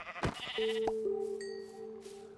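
Blocky video-game sheep in Minecraft let out a couple of short, clear bleats, a steady tone lingering near and moderately loud with no talking.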